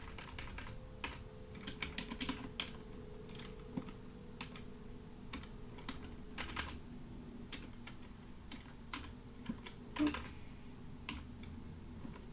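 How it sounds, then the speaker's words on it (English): Fast, uneven clatter of computer keyboard keys under live coding, typed with an injured finger, with scattered bursts and pauses; close and moderately quiet over a low steady hum. "That's why my typing is a little scattered."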